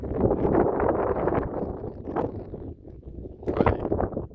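Gusty wind buffets the microphone on a plateau hiking trail at Monte Verde in southern Minas Gerais, a loud, continuous rumbling roar that dips briefly before surging again.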